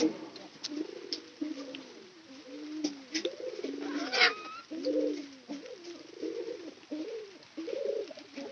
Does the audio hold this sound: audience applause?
no